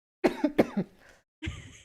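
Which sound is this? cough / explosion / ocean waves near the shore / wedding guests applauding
cough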